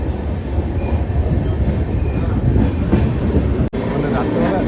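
The 12343 Darjeeling Mail express train running between Kolkata and Cooch Behar, heard from inside a carriage as a loud, steady rumble and rattle that continues almost without break, with indistinct voices mixed in.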